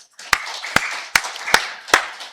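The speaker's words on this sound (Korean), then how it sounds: "우리 살아계신 하나님께 박수를 드리겠습니다." A church congregation at a Sunday worship service claps together in five sharp, evenly spaced beats, close and fairly loud, with a faint voice underneath.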